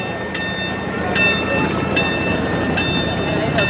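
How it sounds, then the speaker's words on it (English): Live steam miniature train riding privately owned tracks around the countryside in Torrance, with sharp clicks repeating about every 0.8 seconds over a steady low rumble and faint voices in the background. "They actually have tracks running around, and you can take rides on these trains."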